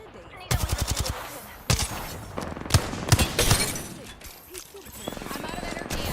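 Rapid bursts of gunfire in the video game Apex Legends, loud and close, several automatic volleys with sharp single shots between, over a steady game background with a voice talking.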